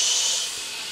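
Minced meat hisses as it hits the hot inner pot of an Instant Pot set to brown, a bright, loud sizzle that eases slightly within a second.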